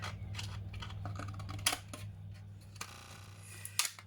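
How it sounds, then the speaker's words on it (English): Tin snips cutting the top band off a tin can, producing a few sharp metallic snips and clicks, with two louder crisp cuts standing out over a steady low hum. "so you just use your tin zips for that."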